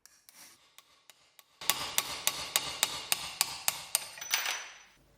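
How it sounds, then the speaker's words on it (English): Sharp metallic hammer strikes ring out in a steady rhythm, about a dozen blows close by, after a few lighter taps at the start, driving a shaft out of a heated, corroded cog from a 100-year-old coffee grinder. "I need to heat the cog up and then hammer the shaft out."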